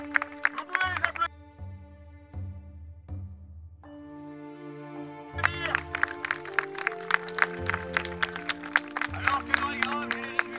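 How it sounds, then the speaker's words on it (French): An audience at a medieval festival applauds after a jousting lance run, with dense clapping rising over sustained droning music and continuing steadily to the end. "Vous pouvez les applaudir."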